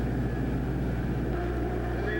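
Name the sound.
1986 ARCA stock cars restarting race, engines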